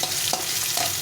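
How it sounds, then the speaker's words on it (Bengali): Potatoes fry lightly in a pan, a short burst of dense sizzling with a stir or two breaking through. "প্রথমে আলুগুলো একটু ভেজে নেবো হালকা করে"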